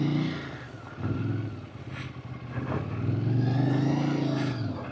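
A Moto Morini motorcycle engine rumbles low through a slow, tight turn, its note rising and dropping in uneven, jerky bursts of throttle, close by and fairly loud, with no speech.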